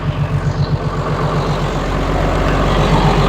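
A diesel engine fitted with a freshly resealed Lucas CAV injector pump runs close by, a loud low rhythmic chug that settles into a steady idle.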